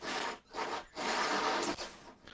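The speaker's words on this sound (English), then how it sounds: "By drilling upward through the hole, what I've done is I've minimized the chip out here." A drill bores upward through a hole in a piece of wood, grinding in three rough bursts separated by brief pauses, close and fairly loud with no talking.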